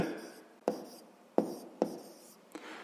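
A pen or pencil scratches on notebook paper in short bursts, each stroke starting with a sharp tap and trailing off, four or five marks in under three seconds, close and quiet with no voices.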